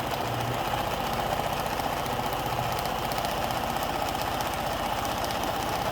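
Sewing machine stitching a quilt-as-you-go placemat to the edge, running as a loud, steady, fast mechanical whir and chatter from start to finish, with no speech.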